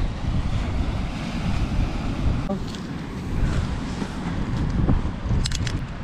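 Ocean waves wash onto an Irish shore in rain, a steady roaring surf with a rising swell, heavily buffeted by wind noise on the microphone.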